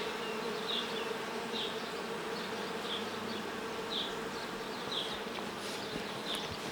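Bees hum in a dense, continuous drone from an open Ukrainian-Alpine beehive while its frames are being inspected. Close, steady buzzing carries faint higher whines from individual bees passing near, with no talk.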